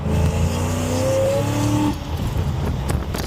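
Straight-piped Australian car on gold wheels accelerating hard in third gear, a loud close engine roar rising in pitch, then a shift-like drop into rougher, throatier noise.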